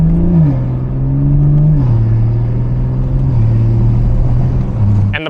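A BMW B58 straight-six revs and blips through downshifts, a loud close rumble with clear pitch steps dropping across several seconds before a sharp cut at the end.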